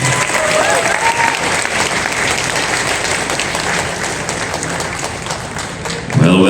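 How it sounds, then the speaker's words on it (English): Loud sustained applause and crowd noise at a live music award show after a band's performance, with dense clapping throughout and a voice breaking through briefly near the end. "Come on, let's have a round of applause for them once again."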